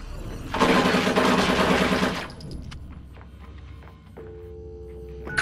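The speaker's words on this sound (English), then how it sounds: "I'm hearing gunfire here." Gunfire in the video game Watch Dogs 2: a loud sustained burst of rapid automatic fire for about a second and a half, followed by quieter clicks, thuds and a steady tonal hum.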